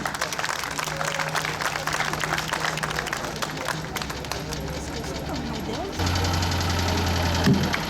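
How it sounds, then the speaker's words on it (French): An audience claps at a vintage car festival's concours d'élégance, a continuous patter of many hands mixed with an old car engine idling and knocking nearby, with a voice speaking over it. "On peut l'applaudir."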